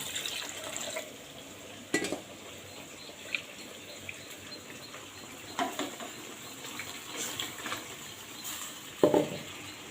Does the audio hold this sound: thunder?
no